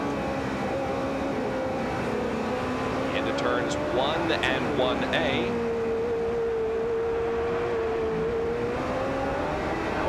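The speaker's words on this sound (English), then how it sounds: "you're going to hear how the car accelerates and brakes and downshifts throughout the course" A 1987 IndyCar race car at Portland, its engine note climbing and dropping as it brakes and downshifts into a turn, then holding a steady drone, heard behind continuous commentary.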